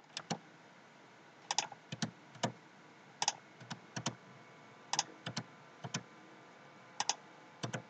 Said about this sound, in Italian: Per risparmiare tempo sto utilizzando la barra spaziatrice che serve a ripetere appunto l'ultimo comando eseguito.